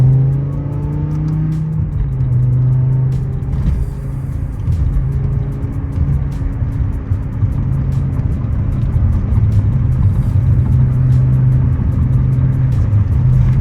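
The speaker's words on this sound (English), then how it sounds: "I don't even know if you can hear the exhaust. This is inside the car with the windows up." A BMW E60 M5's upgraded exhaust and engine drone steadily from inside the cabin with windows up, a low muffled rumble with rising and falling revs throughout.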